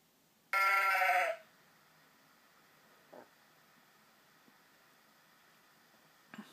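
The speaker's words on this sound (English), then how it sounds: "Wait for the sheep, guys." A sheep bleat sounds once as a loud, short synthetic cue in a Quran learning app on Android, followed by quiet stretches with a couple of faint clicks.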